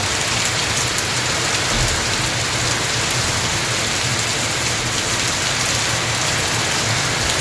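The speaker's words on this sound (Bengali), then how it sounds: "জোরে বৃষ্টি হচ্ছে" Heavy rain in Malaysia pours steadily and loudly, a dense continuous roar of drops hitting surfaces with no pauses, with light wind blowing.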